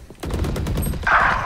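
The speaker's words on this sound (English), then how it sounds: "Oh, my turret just killed her!" Killjoy's automated turret firing in Valorant, a dense rapid burst of gunfire that stays loud throughout the short moment, with a brighter crackling layer toward the end.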